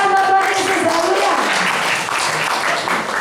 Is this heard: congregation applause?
yes